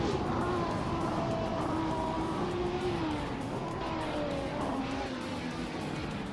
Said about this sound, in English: Amy is currently in 5th place with a 1970 Ferrari 512.